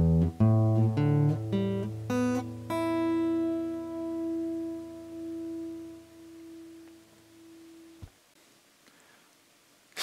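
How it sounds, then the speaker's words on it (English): Guitar strings in standard tuning are plucked one after another from low to high in a quick ascending run, then the last note rings out clearly and decays for several seconds before being muted. "we have a tuning called standard tuning that most guitarists play"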